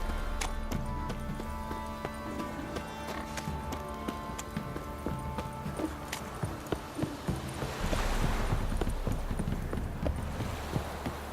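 Horse hooves clip-clop at a walking-to-trotting pace in The Witcher 3, a regular clatter of hoofbeats under game music and ambient sound, with a brief snort or whinny near the end.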